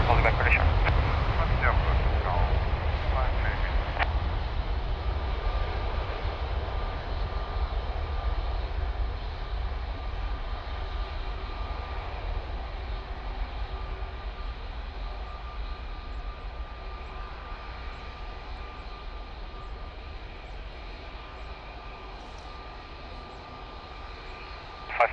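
A Boeing 737 rolls at Lisbon Airport, a broad steady jet engine roar that slowly fades over about twenty-five seconds, with radio chatter faintly underneath.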